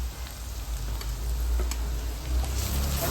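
Chopped green chillies and ginger sizzle in a hot pan for a potato sandwich filling: a continuous close crackling fry with scattered spatter pops and stirring.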